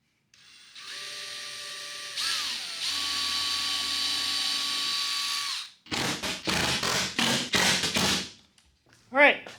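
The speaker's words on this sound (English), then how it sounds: "let's grab a drill" A power drill drives screws into a wooden crosscut sled: a long, steady motor whine with a pitch shift, then several short, sharp bursts of driving, close and loud.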